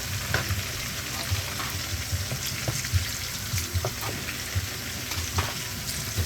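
Onions frying in a pan over medium heat give a dense, continuous close sizzle with light crackle and occasional soft stirring scrapes, steady throughout with no voices.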